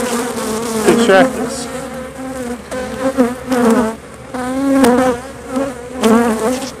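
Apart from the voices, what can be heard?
honey bees buzzing around hive frames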